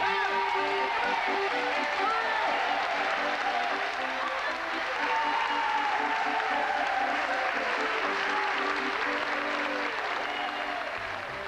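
A church audience at a Bonhill concert gives a long, warm round of applause for the performers, steady crowd clapping filling the room throughout, with scattered voices and a few cheers beneath it.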